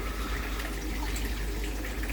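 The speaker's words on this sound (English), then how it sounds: "It's just a little pump, it's just another flow of water" A small pump pushes a steady, soft flow of water through a pool, producing a continuous low wash and trickle with no breaks.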